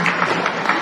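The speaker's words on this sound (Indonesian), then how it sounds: "kita kasih tepuk tangan dulu yang meriah buat anak-anak" An audience gives lively applause for the children before a musical poetry reading, a short, loud, continuous wash of many clapping hands.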